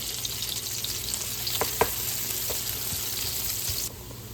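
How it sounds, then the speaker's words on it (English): Onions caramelize in a pan with Italian sausage juices for a Zuppa Toscana soup, producing a soft, steady sizzle with a few spatula stirs and taps, close and quiet, fading near the end. "I'm going to caramelize these until they're golden brown before I stick them in the soup"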